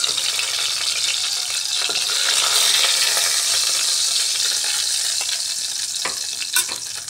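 Chicken pieces frying in hot oil, a steady loud sizzle running throughout with occasional stirring clinks and a sharp tap near the end.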